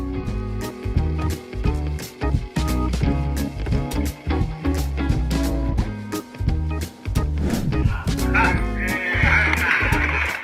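A dog barks and yips repeatedly in quick, loud bursts close by, over a busy background of other sound.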